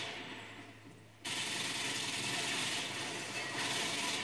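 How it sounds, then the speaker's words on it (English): An RPD machine gun firing in the Black Ops 2 video game, a dense sustained burst that swells suddenly and continues steadily, loud with no talking over it. "They're shooting! RPD! From Black Ops 2."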